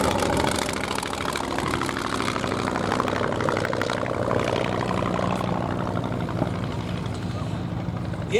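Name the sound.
Polikarpov Po-2 aircraft propeller engine running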